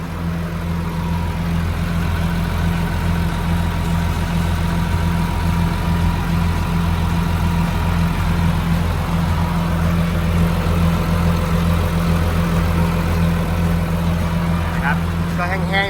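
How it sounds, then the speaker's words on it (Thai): A Hitachi ZW250 wheel loader's diesel engine idles steadily with a deep, constant drone, close and loud, while someone talks over it. "เสียงเครื่องเนี่ยก็ทำงานได้แน่นดีปกตินะไม่ได้มีเสียงอะไ รที่ผิดป"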